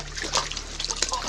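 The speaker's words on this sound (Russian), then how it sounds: "У нас тут пробоина. Поступление воды." Water rushing and sloshing into a holed boat, a continuous splashy wash with small bursts of spatter, heard close up with voices in the background.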